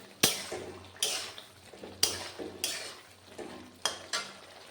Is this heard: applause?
no